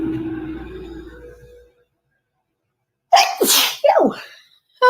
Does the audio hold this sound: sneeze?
yes